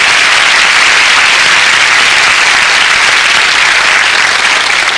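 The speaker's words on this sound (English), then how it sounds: "Why don't you give Lenore a round of applause, please?" Loud, dense applause from a live audience at a motivational talk, steady and sustained throughout without any voices.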